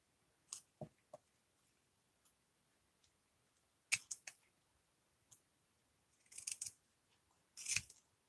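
Scissors trim a paper petal on a peacock-themed journal, giving a few short separate snips and clicks, close and quiet, with gaps of near silence between them.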